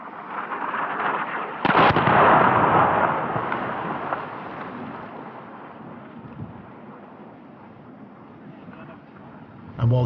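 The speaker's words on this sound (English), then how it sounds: "Within a couple of hours of our arrival, I witnessed one of the regular airstrikes." Airstrike explosions in a war zone in Syria or Iraq, a heavy distant blast that erupts suddenly and then rumbles and rolls away slowly, followed later by another abrupt thump, with a voice talking over parts of it.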